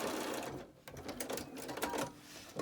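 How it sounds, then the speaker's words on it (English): A home sewing machine runs in steady bursts, stitching down the outer fabric of a fitted face mask to form a narrow casing for elastic, the motor whirring close with brief pauses between runs. "Stitch on the outer fabric. Stitch it down."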